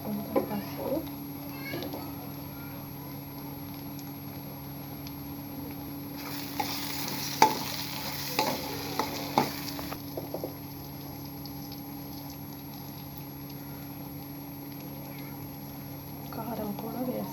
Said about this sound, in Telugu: అల్లం వెల్లుల్లి పేస్ట్ వేసుకోవాలి. మంచిగా కలపాలి.